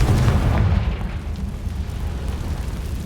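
A Confringo spell explosion in the video game Hogwarts Legacy, a loud, deep blast with a heavy low rumble that fades into a sustained roar over a few seconds.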